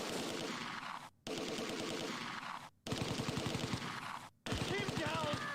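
Sustained rapid bursts of machine-gun fire in the WWII strategy game Close Combat 2, dense rattling volleys broken by three brief silent gaps, loud and continuous throughout.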